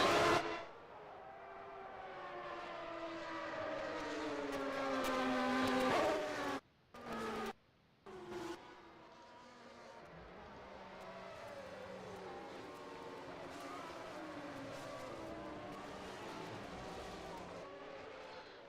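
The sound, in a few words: Formula One cars on the formation lap, 1993 Australian Grand Prix, Adelaide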